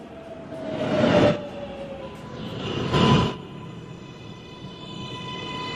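A New York City subway train at Rose Street rumbles loudly nearby, with two swelling surges of wheel and track noise and a steady high whine from the motors.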